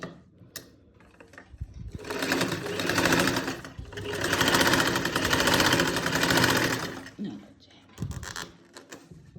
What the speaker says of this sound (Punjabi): ਤੀਰੇ ਵਾਲੀ ਸਲਾਈ ਲੱਗ ਜਾਂਦੀ ਹੈ